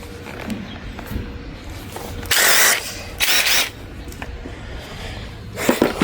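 Ryobi impact driver spinning bolts on a lawn mower, two short loud buzzing bursts of a second or less each in the middle, with quieter shop handling noise and a final brief burst at the end.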